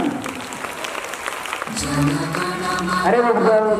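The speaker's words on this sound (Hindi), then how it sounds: "जोरदार तालियां" Loud clapping from students and staff at a school Independence Day ceremony, sustained throughout and building in strength, mixed with music or tonal sounds and background voices in the second half.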